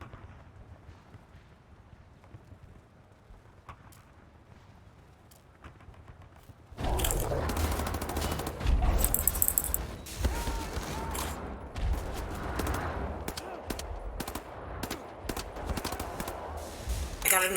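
Rapid gunfire and explosions in Wolfenstein: The New Order erupt after a quiet stretch, loud dense bursts of shots continuing with crashes and booms throughout.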